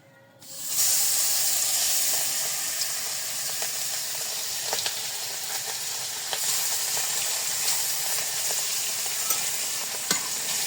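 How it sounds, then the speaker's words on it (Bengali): Tilapia fish fry in hot oil in a pan, a loud steady sizzle that starts abruptly and holds, with occasional sharp pops and crackles. "এই তো মাছগুলা ভেজে নেব।"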